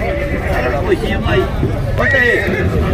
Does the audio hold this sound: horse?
yes